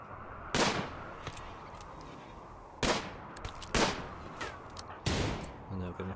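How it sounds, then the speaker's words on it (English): Colonists shooting in Rimworld, a series of sharp gunshots fired at separate moments with a few quicker follow-up cracks, moderately loud over a faint background. "They don't know they're being fired at yet."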